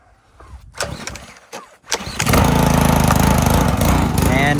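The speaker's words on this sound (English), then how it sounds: "And here she is surging because there is no blade on it." A Honda small engine mounted on a stand, with no blade fitted, cranks a few times, catches and then runs loud and close in a steady roar that surges slightly.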